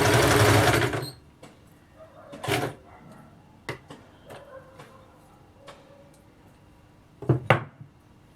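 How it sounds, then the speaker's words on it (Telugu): A sewing machine stitches a blouse, opening with a loud rapid burst of stitching and then quieter clicks and short runs, ending with another brief burst. "మార్క్ చేసుకున్న దాన్ని బట్టి డాట్స్ స్టిచ్ చేసుకోండి."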